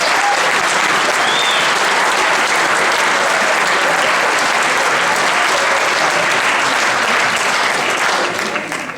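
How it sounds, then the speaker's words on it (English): A large audience applauds graduating seniors at a school awards ceremony, a steady dense wash of clapping that holds loud for the whole stretch and only starts to thin at the very end. "Let's give them all a round of applause."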